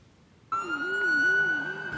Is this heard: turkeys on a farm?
no